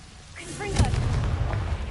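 A fiery blasting spell in the Hogwarts Legacy game goes off with a heavy, booming explosion that swells midway and rumbles on, close and loud, under a spoken incantation.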